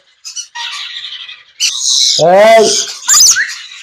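Pet talking birds at a bird market give harsh, close squawks and calls in bursts, with a loud raspy squawk in the middle of the stretch.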